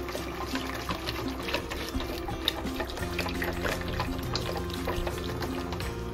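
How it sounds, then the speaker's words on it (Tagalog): A whisk or spoon stirs fresh milk and sugar in a bowl for strawberry roll cake batter, giving a steady, close, sloshing liquid swirl with no talking. "Haluin po natin mabuti guys hanggang matunaw po ang ating sugar"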